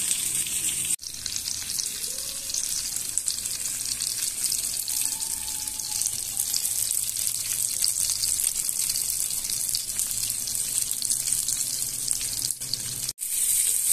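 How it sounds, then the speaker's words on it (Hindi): Mackerel (bangda) fish frying Goan style in a pan, giving a steady, close hiss and sizzle of hot oil that runs unbroken throughout, with two brief sharp clicks. "और थोड़ी देर, दो तीन मिनट के लिए और थोड़ा फ्राई कर लेती हूँ।"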